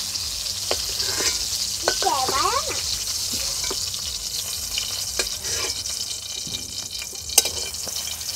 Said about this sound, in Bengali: পটলগুলো আমি হালকা করে ভেজে নিয়েছি, এবার তুলে নেব।